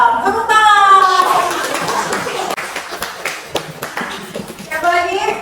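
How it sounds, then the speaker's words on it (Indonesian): Pupils in a classroom clap their hands in a lively burst of applause, close and fairly loud, with children's voices and chatter mixed in before and after the clapping. "Tepuk tangan."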